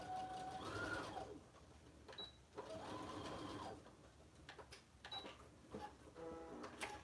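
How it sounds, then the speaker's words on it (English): A sewing machine stitches the seams of a messenger bag in several bursts of motor whir, each run steady and close, separated by short pauses and handling clicks. "So you're going to sew that part there, and you're going to also go there and sew that part also"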